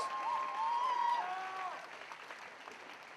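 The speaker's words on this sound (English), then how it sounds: "let's have a huge round of applause for these Muay Thai warriors" A crowd at a Muay Thai fight night applauds the fighters, with moderate clapping and a few whistle-like tones early on before the noise settles into a softer, thinning patter.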